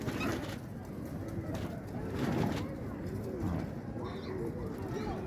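Pigeons in a loft in Imbaba, Cairo, coo softly and continuously in low, throaty murmurs close by, with faint human voices in the background.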